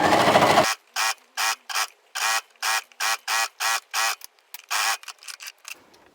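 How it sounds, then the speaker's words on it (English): A sewing machine stitches a trouser hem in short, rhythmic bursts of rapid mechanical whirring separated by brief pauses, close and clear, after a louder opening moment. "sewing the hem so that my overstitching is a bit more discreet than if I was to start on the outside leg seam"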